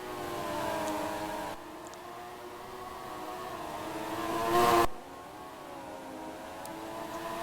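Race car engines drone in a racing video game, featuring an Aston Martin and a Red Bull car battling closely; steady tonal engine whine shifts pitch as gears change, with one sharp rising rev before an abrupt cut.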